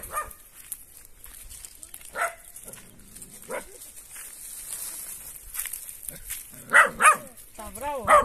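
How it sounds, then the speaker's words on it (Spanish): An angry dog barks at people arriving at a remote family home, with several sharp barks bunched near the end and an earlier one or two, while people talk over a faint outdoor background. "Está bravo el perrito, ¿eh?"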